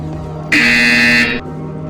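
A loud, harsh electronic buzzer in the video game Portal Stories VR sounds once for under a second, steady and flat, cutting over a low background hum.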